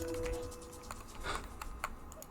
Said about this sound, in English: it's better without the keyboard noises